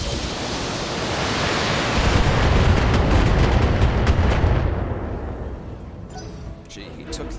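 Mech weapons discharging in the video game Battletech, a loud broad roaring blast that swells over a few seconds then fades, followed by faint sharp clicks and effects.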